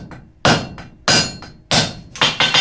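A 3-pound hammer forges steel into a knot sculpture, landing four sharp, ringing blows at a steady pace with short lighter taps between, loud and close with no talk.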